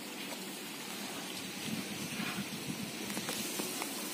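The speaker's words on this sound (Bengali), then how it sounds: "এই দেখো বৃষ্টি হচ্ছে।" Rain falls steadily during a windy evening rainstorm, a soft continuous hiss of drops with faint scattered patters, fairly quiet and without any voices.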